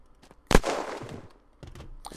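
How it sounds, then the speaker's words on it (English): Gunshots in the zombie survival game Unturned: one sharp loud report followed by a rolling tail, then a few fainter scattered shots. "I don't know where those gunshots are going, but I'm going right to it."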